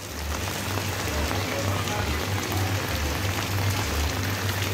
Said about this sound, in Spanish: nos acaricia el cielo con sus gotas de lluvia.